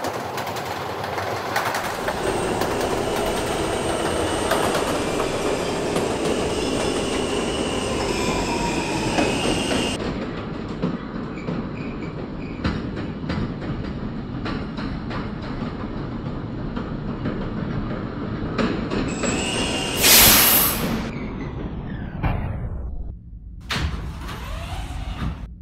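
R160 subway car on a K train running between stations, a loud steady rumble of wheels on rail with rattling and a sharp squeal of wheels near the end as the train slows.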